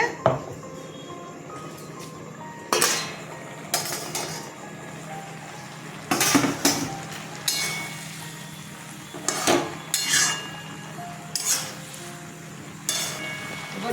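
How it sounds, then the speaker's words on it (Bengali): A lid goes back onto a pot of bottle gourd greens cooked with poppy seed paste and lentil fritters: a series of metallic clanks and clatters at irregular intervals, close by, with faint talking at times. "আবার ঢেকে দিচ্ছি"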